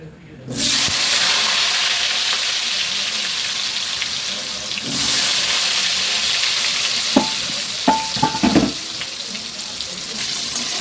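Potatoes dropped into hot oil with turmeric start a loud, continuous frying hiss that swells again partway through, joined near the end by a few sharp clinks of utensils against the pan.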